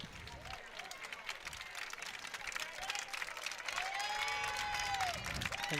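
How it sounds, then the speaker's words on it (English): A crowd at a girls' lacrosse playoff final gives a standing ovation, with sustained applause and cheering that swells toward the end under commentary. "Spenza getting a standing O from the crowd in attendance here"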